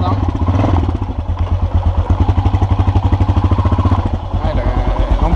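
A motorcycle fitted with handlebar muffs idles and putters close by during a short test in a garden, its engine pulsing in a steady rapid chug with slight rises in revs.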